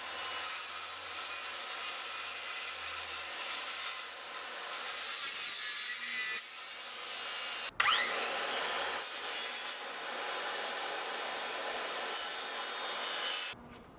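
A power saw cuts aluminum in a loud, steady grinding run that briefly drops out and restarts with a rising whine, then continues before cutting off, with no voices.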